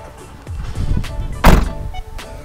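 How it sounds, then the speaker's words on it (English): A VW T5 camper van door is shut with a single solid thunk at the midpoint, with softer handling knocks before it and after it. "Shall I shut the door on one?"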